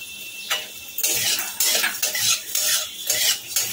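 Vermicelli fried in ghee with cashews and raisins is stirred in a pan, giving rhythmic close spatula scrapes and clinks over a bright, steady crackling sizzle.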